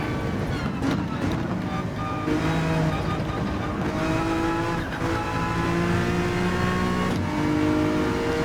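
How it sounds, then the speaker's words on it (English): Honda NSX GT3 race car in Gran Turismo 7 revving high through the gears, a steady loud engine whine rising and dropping with each shift, with faint tire noise underneath and no talk. "So NSX we can really rev out, and I gotta rev it out before switching gears."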